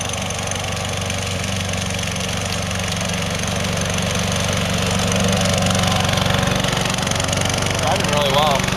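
A remote-controlled lawn mower, built about twelve years ago, runs with a steady, loud droning engine throughout, and a voice is heard over it.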